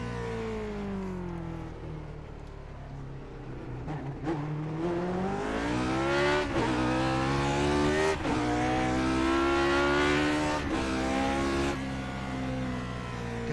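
A simulated Lotus 49 race car in iRacing, a 400 horsepower engine on road tires, revs hard and accelerates through repeated upshifts, each gear rising in pitch before a short break, loud and continuous with no talk.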